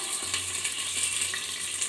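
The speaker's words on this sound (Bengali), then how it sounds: "গ্যাসটা লো ফ্লেমে দিয়ে পটলটা ঢাকা দিব, কারণ পটলটা সিদ্ধও হবে এবং ভাজা হয়ে যাবে" Whole pointed gourds fry under a lid on a low flame, giving a soft, steady muffled sizzle with faint occasional crackles, low in level and without voices.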